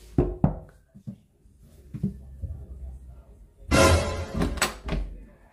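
A few sharp knocks land on a bedroom door in a small house in Japan, followed by a loud burst of clattering that sounds like the door being handled, all at close range in a quiet room.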